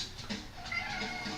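A pet cat gives a couple of soft, faint meows in a quiet room, close by and with no other sound around it.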